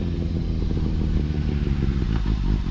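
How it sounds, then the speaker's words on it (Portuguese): Kawasaki ZX6R 636 sport motorcycle engine running close by, a loud, steady throbbing idle with a rough, pulsing rumble and slight rattling texture throughout. "Um pouquinho do barulho aí da moto pra vocês."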